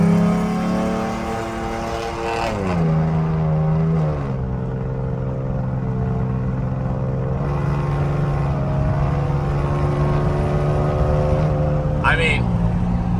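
A loud pickup truck fitted with a cold air intake and throttle body spacer accelerates onto the interstate, its engine droning steadily and rising through the gears with audible shifts, heard from inside the cab under ongoing wind and road noise.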